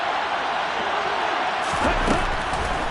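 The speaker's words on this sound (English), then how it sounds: "the crowd getting into it as we come up on a big third down" A football stadium crowd ahead of a big third down, a broad roar of cheering that swells slightly toward the end, heard from amid the stands with a faint voice over it.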